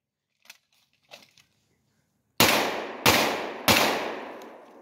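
Three loud, sharp gunshots ring out close by during a shooting drill with a CZ Scorpion and a Glock 19, evenly spaced with echoing tails, after a few faint earlier clicks.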